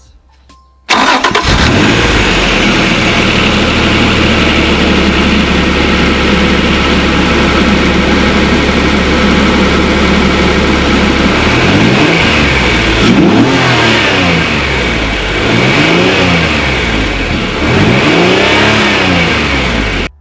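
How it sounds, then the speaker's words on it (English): An Acura NSX engine fitted with an R.F.Y. aftermarket intake cranks and catches, idles loudly for several seconds, then revs up and down repeatedly with a rushing intake roar. "we'll quickly get a sound test to hear the induction noise"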